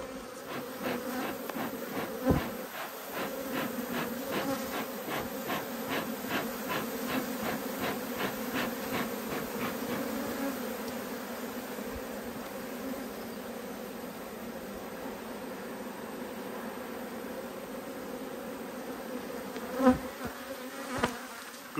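Honey bees buzz continuously around a hive in a dense, steady drone, close by and moderately loud, with occasional bumps and handling noises and no speech.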